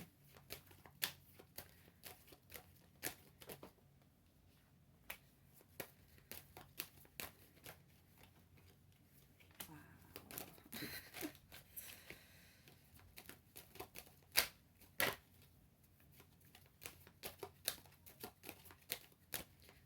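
Tarot cards shuffled and drawn at close range, a string of soft riffling flicks and sharp slaps spread through the stretch, with a denser burst of shuffling partway in and a few crisp card snaps near the end.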